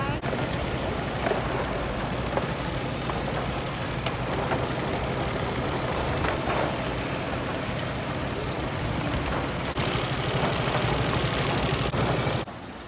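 An industrial sewing machine stitches sail panels together in a sail loft, giving a continuous mechanical whir and rattle that stays even in level and breaks off sharply at the end.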